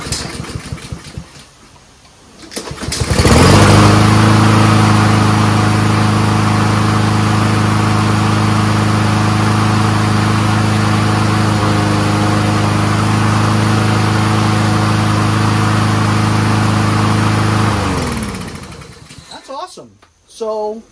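A Honda-powered Troy-Bilt 21-inch front self-propelled lawn mower engine fires up after a few seconds, runs loud and steady nearby for about fifteen seconds, then winds down and stops.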